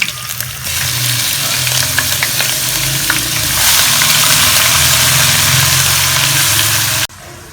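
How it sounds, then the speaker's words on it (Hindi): Whole spices fry in hot oil in a pan for a bakra kaleji masala, giving a steady, fairly loud sizzle that continues for about seven seconds before cutting off abruptly. "खड़ा मसाला फ्राई हो चुका है।"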